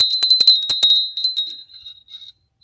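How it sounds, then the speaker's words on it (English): A small vintage bell figurine rings rapidly, a flurry of bright, close metallic tinkles that slows and fades into a lingering high tone. "this is a little bell person"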